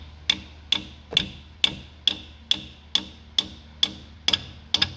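A large hammer tapping an injector cup into the cylinder head of a 7.3L Powerstroke diesel, about a dozen sharp metallic taps at a steady, even pace, close and clear with no talking.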